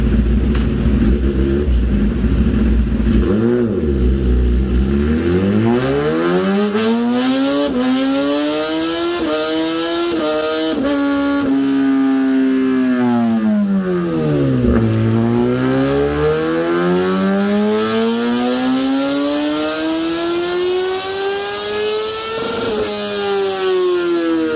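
A 2019 Kawasaki ZX10R running E85 fuel screams on a dyno, its engine climbing through the revs in a long rising wail, dipping briefly and then climbing again, loud and close throughout.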